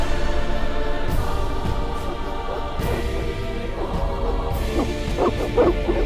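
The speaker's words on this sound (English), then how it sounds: "They're evil dogs." Evil dogs in the video game The Witcher, barking and yipping repeatedly over a loud continuous ambient bed, with a cluster of sharper barks toward the end.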